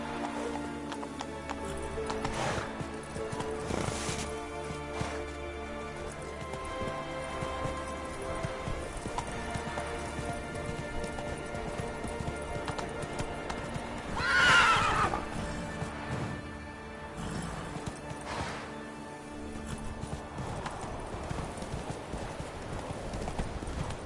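Roach, a horse in The Witcher 3, gallops in a steady hoofbeat rhythm with neighs and snorts over background music, with one louder whinny partway through.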